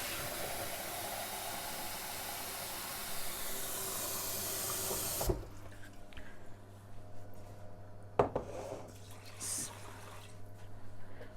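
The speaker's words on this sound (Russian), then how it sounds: "Сейчас зальем воды." Water is poured into a pot of cooking rice as a steady, rushing hiss for about five seconds. It stops abruptly, leaving quieter kitchen clatter with one sharp knock.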